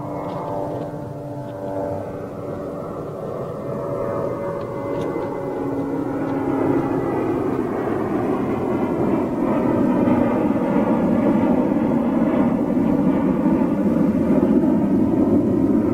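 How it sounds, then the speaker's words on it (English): An inbound TAP Airbus A330neo approaches, its engines giving a rising, tonal whine over a low rumble that grows steadily louder as it nears, heard alone without voices. "TAP 330 Neo inbound."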